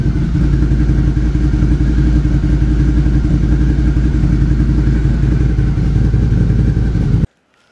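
Suzuki SV650 motorcycle fitted with a MIVV aftermarket exhaust, revved hard to about 4000 RPM, loud and close, a sustained throaty roar that cuts off abruptly at the end.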